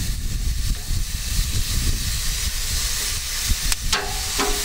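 Pork belly liempo sizzles loudly on a grill as a constant, close hiss and crackle with steamy spits. Sharper snaps and pops break through near the end.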